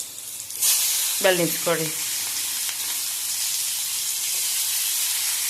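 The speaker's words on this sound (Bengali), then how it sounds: "সেই জন্য তেলেতে রসুনটা দিলাম" Garlic hits hot oil in a pan with a sudden bright sizzle that settles into a steady hiss, while a voice speaks briefly over it.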